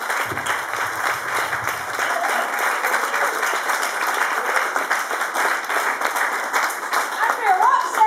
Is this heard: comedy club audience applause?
yes